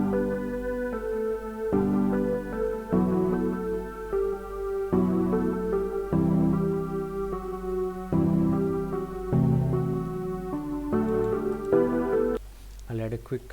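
A synth melody layered with a sustained pad, built in FL Studio, plays as a steady sequence of sustained chords and notes with no talking, fairly loud and continuous for the whole stretch.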